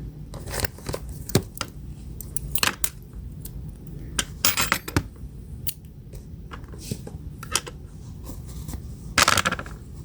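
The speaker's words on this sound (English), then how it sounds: "cut your yarn" Scissors snip crochet yarn in quick, crisp clicks with a few sharp metallic snaps, and soft handling rustle runs between the cuts.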